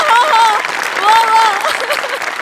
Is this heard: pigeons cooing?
no